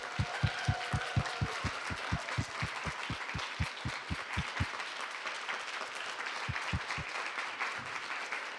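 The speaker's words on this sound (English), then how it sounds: "So I think we should all give an enormous round of applause to the absolutely amazing Nancy A." An audience at a women's leadership event applauds for a guest, a dense steady wash of clapping with strong rhythmic low thumps at first that then stop while the clapping carries on.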